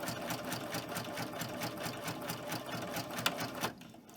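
Double-needle sewing machine stitching steadily at tension 4.0, a fast, even mechanical chatter of needle strokes running continuously before stopping abruptly near the end.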